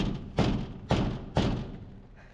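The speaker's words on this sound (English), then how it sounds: "I wonder if I can get behind this tarp here and try bang this one into place at least, because it still needs to be banged in a little bit more" A window is banged into its frame on a container house: three sharp, close thuds at even intervals, each fading quickly.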